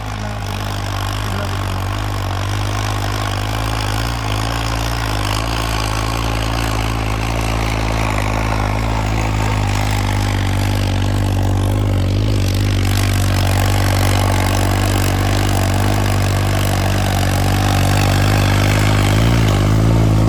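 A heavy modified tractor engine rumbles continuously up close, idling with a low steady throb and a slight rise in revs near the end, with no talking.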